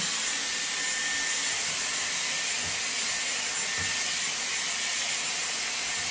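Steady, loud airflow hiss from a Dyson Airwrap blow-drying towel-dried hair with a round brush attachment, a constant whooshing drone throughout with faint handling bumps.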